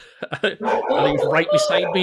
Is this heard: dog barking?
yes